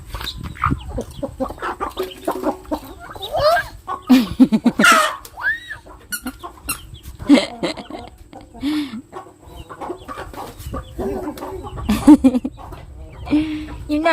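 A chicken clucks and squawks in bursts while a child tries to catch it, with excited voices talking and calling throughout and scuffling movement between the bird's calls.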